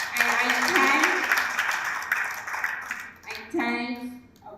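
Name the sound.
audience applauding panelists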